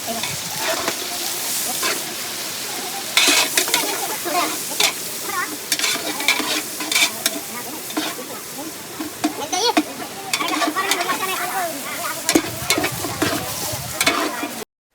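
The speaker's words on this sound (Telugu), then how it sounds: "ఆయిల్ యాడ్ చేసుకొని అందులో ఆవాలు, జీలకర్ర, మెంతులు, కొత్తిమీరలు అండ్ మసాలా ఐటమ్స్ అన్నీ యాడ్ చేసుకున్నారు" Mustard seeds, cumin, fenugreek, coriander and masala spices fry in oil for a village festival feast, giving a steady, close sizzle broken by frequent scraping stirs and clatters.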